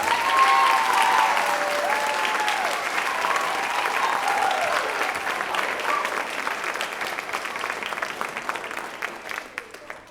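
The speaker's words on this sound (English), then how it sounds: "Let's give another round of applause to the soloist and ensemble people." An audience at a middle school band concert claps in sustained, dense applause that starts strong and slowly thins into scattered claps toward the end.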